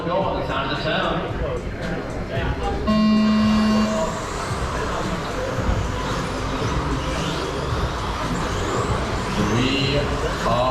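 RC 13.5 stadium trucks race on an indoor carpet track, their motors making a dense, continuous whine as a start tone sounds and a commentator talks over the racing.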